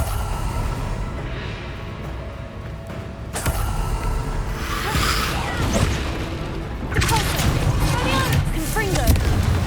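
Confringo spell explosions in Hogwarts Legacy: several booming, crackling blasts with creaking debris and crashes, mixed under game voices and ambient noise.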